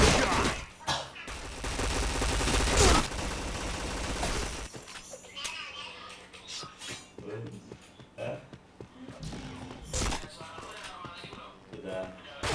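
Rapid bursts of gunfire and impact hits from a shooter video game, starting as a loud dense barrage, then thinning into scattered shots and clatter beneath a voice talking.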